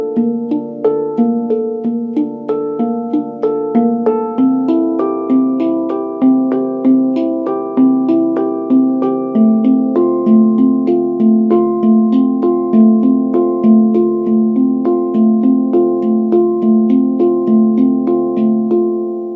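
A handpan plays an uplifting arpeggio pattern on its first, third and sixth notes, each struck tone ringing clearly in a steady, even, repeating rhythm with no talking.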